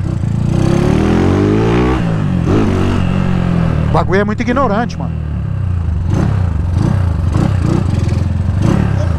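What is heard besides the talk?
Honda Titan motorcycle engine revving when accelerated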